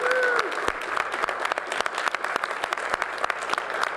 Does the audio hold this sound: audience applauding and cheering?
yes